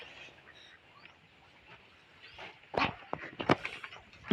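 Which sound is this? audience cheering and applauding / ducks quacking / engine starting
ducks quacking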